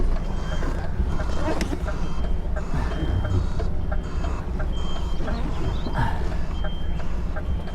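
A UK HGV truck backs its trailer through a tight spot among trees. A loud, low diesel rumble runs throughout, with a repeating reversing beep faintly audible above it.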